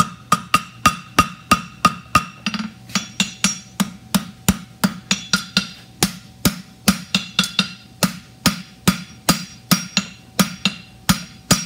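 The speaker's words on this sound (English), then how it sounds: "And creating that check with the round side of my hammer." A hammer strikes hot steel on a forge in a fast, steady rhythm, dozens of sharp ringing blows close by, each with a brief metallic ring.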